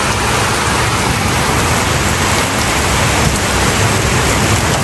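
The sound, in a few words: heavy rain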